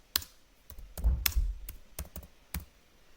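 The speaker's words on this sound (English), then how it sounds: "Just head straight to your YouTube search bar and type how to cook" A computer keyboard is typed on in short bursts, about nine sharp, close key taps with small pauses and a heavier thump near the middle, no voices.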